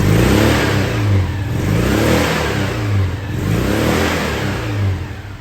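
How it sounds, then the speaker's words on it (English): A Citroen 2CV engine with standard exhaust revs repeatedly, rising and falling in three broad surges, loud and close with a buzzy, throaty exhaust note. "Just going to do a noise test with the standard exhaust."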